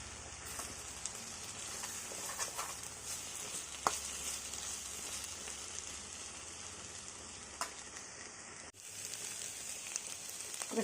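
Boiled jackfruit seeds are stirred into onions and ginger-garlic paste frying in a pan, giving a steady, soft sizzle with light scraping that runs the whole time.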